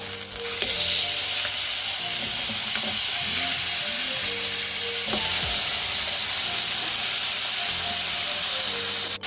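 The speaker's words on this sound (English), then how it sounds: "And I'm going to fry it for another 3 minutes on this side." Blackened tilapia fillet fries in a pan, giving a loud, steady sizzle and hiss that runs unbroken throughout, with a couple of faint utensil taps and no voices.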